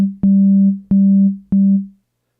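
Three short, identical bursts of a harsh, distorted low synth tone from bias distortion with asymmetrical clipping in Ableton Live 12.2's Roar, each hitting abruptly and fading out, evenly spaced.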